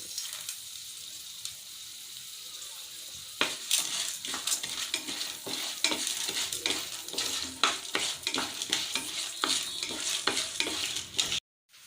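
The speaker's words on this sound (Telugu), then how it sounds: "ఇందులో మినప్పప్పు శనగపప్పు వేసుకోవాలి. వీటిని కూడా మీడియం ఫ్లేమ్లోనే ఉంచుకొని వేయించుకోవాలి." Urad dal and chana dal fry in hot oil on a medium flame with a steady sizzle, while a spoon stirs and scrapes the pan in frequent close clinks.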